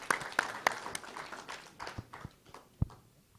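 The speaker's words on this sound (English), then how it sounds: "Can we have a big round of applause for our gift sponsors, please?" An audience applauding gift sponsors at a live business speaker session, scattered claps starting fairly strong and thinning out into a few isolated, fading hand claps in a hall.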